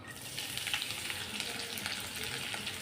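Chopped onion and green chili sauté in hot oil for a Kerala-style chicken keema dum biryani, giving a steady, soft, continuous sizzle that stays fairly faint throughout with no voices.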